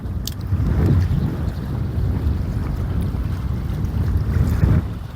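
Steady wind buffeting a fishing boat out on the water, a continuous low rushing roar with gusty swells, no voices.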